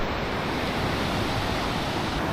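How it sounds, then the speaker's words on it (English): Ocean waves wash steadily onto a beach, a continuous loud broadband roar of surf with wind mixed in, filling the whole span without pause. "I mean, just look at that ocean."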